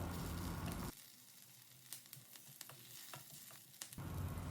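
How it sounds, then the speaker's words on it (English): Sliced onion, garlic and ginger sauteing in a pan over medium flame, a steady sizzle with occasional stirring clicks, louder at the start and end and softer in between. "On medium flame, we will saute them until they turn golden brown in color."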